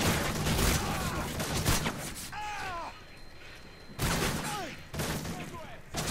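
Call of Duty: Modern Warfare 3 zombies-style round combat with bursts of gunfire and booms, loud chaotic volleys broken by a quieter gap, with whistling, chirping effects in between.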